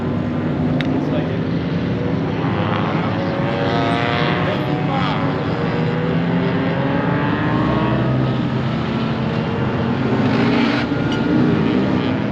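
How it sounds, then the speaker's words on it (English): Race cars head out onto the track at Barber Motorsports during a Lemons endurance race, with engines droning and rising in pitch continuously while people talk nearby. "Cars are still going out on track."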